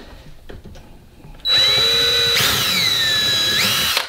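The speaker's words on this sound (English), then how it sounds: "I'm just going to drill a hole in here." A power drill bores a hole into a dishwasher, starting abruptly after faint handling noises with a loud, steady high-pitched whine that holds and shifts pitch under load, close by and uninterrupted.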